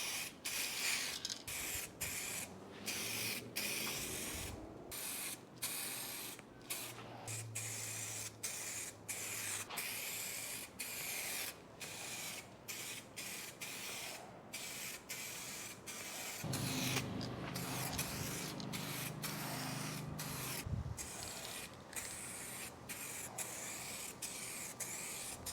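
Clear coat is sprayed onto wheels in a home garage in repeated short hissing bursts with brief pauses between passes, faint and fairly close, with low rumbling in places and no voices.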